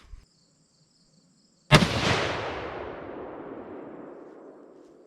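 A deer-hunting rifle fitted with a Vortex scope fires a single loud shot at an outdoor range, a sharp crack followed by a long rolling echo that fades over several seconds after near silence.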